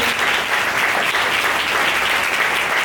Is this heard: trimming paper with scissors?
no